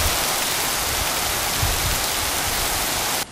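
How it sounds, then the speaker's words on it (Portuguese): Heavy rain pours steadily with strong wind in Goiânia, Brazil, a dense, even wash of noise at a close, constant loudness with no voices, cutting off abruptly at the very end. "A chuva começou no final do dia, com intensidade e muito vento."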